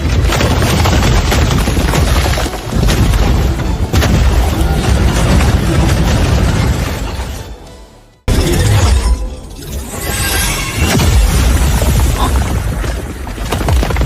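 Heavy mech weapons in an animated wasteland sci-fi battle fire in a loud, dense barrage of blasts and shattering explosions that fill nearly the whole stretch, broken by one abrupt cut to near silence before the onslaught resumes.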